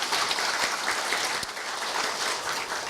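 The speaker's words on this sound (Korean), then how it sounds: "감사의 박수를 부탁드립니다." Steady applause of thanks fills a hall during a Korea University staff retirement ceremony, even, continuous clapping from a seated crowd with no talk over it.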